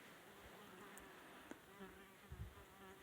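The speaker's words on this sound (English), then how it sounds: "You got a bee." A bee buzzes faintly nearby in an outdoor setting, a thin steady drone with a few brief louder bumps, quiet and alone without talk.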